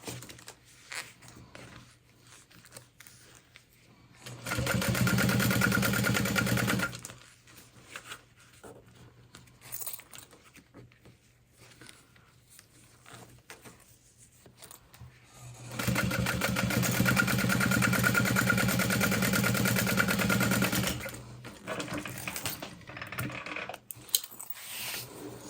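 Sewing machine stitching the top edge of a fabric bag through folded exterior fabric, running in two steady bursts of a few seconds each with quiet pauses between, close and fairly loud.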